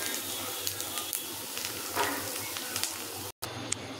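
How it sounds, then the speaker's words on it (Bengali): Khar leaf paste fries in a wok while being stirred, giving a steady close sizzle and hiss with light scraping, briefly cutting out near the end. "পাতাটা আবার নাড়াচাড়া করতে হবে, একটু কালো কালো হয়ে আসবে"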